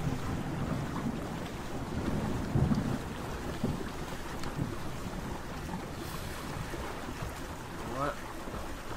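Thunderstorm in the game ARK Survival Evolved on the Ragnarok map: a steady wash of rain and wind with low rumbles of thunder, one heavier roll swelling near the middle.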